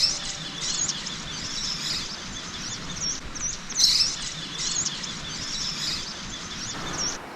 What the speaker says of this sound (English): Amazing, the bird life is abundant.